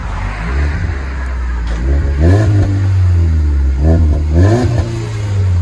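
Ford Fusion SE with a muffler delete backing out, a steady low exhaust drone that rises in a couple of brief revs, close and fairly loud with no talking.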